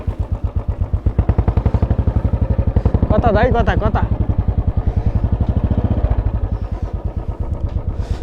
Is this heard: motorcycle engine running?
yes